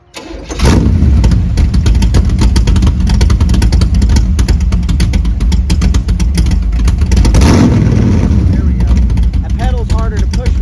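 Chevrolet squarebody truck with a problem-plagued engine starts and then runs loud and close, a rough, thumping idle with repeated revs rising and falling; a voice talks over it.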